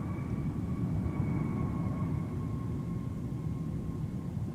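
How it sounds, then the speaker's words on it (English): A Delta Airbus A330-900neo takes off at night from MSP airport, a steady, loud jet roar with a low rumble and a faint whine that holds evenly throughout. "here is Delta 10 Heavy off to London Heathrow tonight with the A330-900 Neo"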